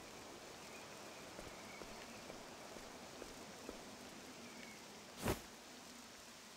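Steady rain falls in the video game Octopath Traveler II as a soft, even hiss, fairly faint throughout, with one brief louder swell near the end.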